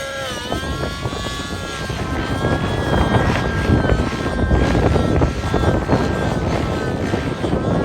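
A Tron 700 helicopter converted to a nitro engine, running in idle up flight mode, gives a loud, steady high-pitched whine with rising and falling harmonics, heard alone with wind buffeting the microphone.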